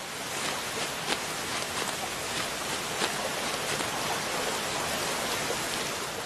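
Light drizzle falls steadily outdoors, a soft, even hiss of rain with faint scattered drop ticks, continuous and unbroken with no voices.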